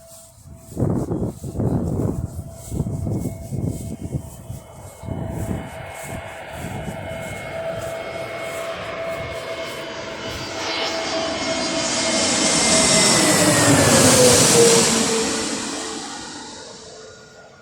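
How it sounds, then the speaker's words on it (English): A Jet2 Airbus A321neo jet airliner approaches to land, its engine roar building steadily and swelling loud as it passes close overhead, then easing away. "we've got an A321neo which probably sounds like a 777 that's coming to land"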